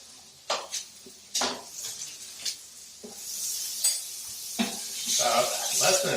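Butter goes into a hot pan of scalloped potatoes, a soft sizzle rising beneath close clinks and scrapes of a utensil stirring and tossing against the pan, loud at times and fading between; little talk.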